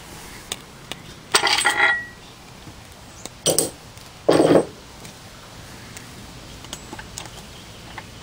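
Caps are pulled off a General Supply Co. air compressor in three short bursts of close metallic clinking and rattling, with quiet pauses between.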